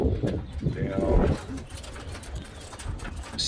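Young pigeons in a loft give soft, low cooing calls, close by and slightly muffled amid general shuffling and background murmur.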